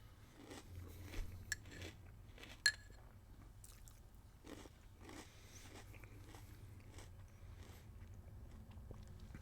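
Crunchy Lightyear cereal with marshmallows being chewed up close, a steady run of crisp bites and munching with a few sharper crunches early on, no talking.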